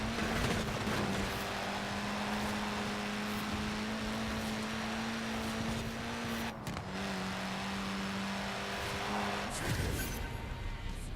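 Racing car engines in the driving game Forza Horizon 4, a loud steady engine drone holding pitch with a brief dip mid-run, continuous and close.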